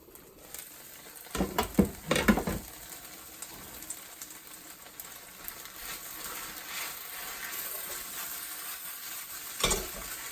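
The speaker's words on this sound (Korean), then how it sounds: "이제 어느 정도 다 볶아진 것 같아요." Vegan yaki udon with cabbage stir-fried in a pan gives a soft, continuous sizzle, broken by a burst of scraping and clattering stirring early on and another brief clatter near the end, with no voices.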